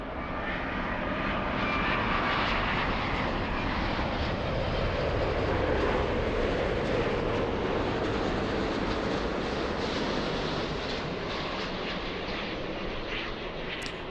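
An SAS airliner passes at an airport, its jet engines a loud, steady, broad roar that holds constant for the whole stretch without pause.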